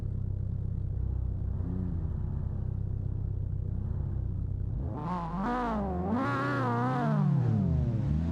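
Racing cars setting off in the Assetto Corsa sim racing game on a touge course, a black Honda Civic EK9 leading a blue car: low idling rumble, then engines rev up loudly with rising, wavering pitch as they pull away.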